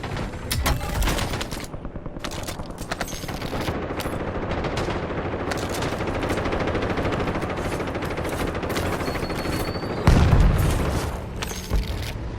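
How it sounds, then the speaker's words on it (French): Dense gunfire rattles continuously in the video game Warzone, with a heavy grenade blast booming near the end over the shooting, loud and close. "Je lance une grenade."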